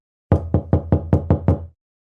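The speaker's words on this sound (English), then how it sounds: "They knock again." Seven firm knocks on a cottage door in a quiet village, evenly spaced and close, loud and alone with silence before and after.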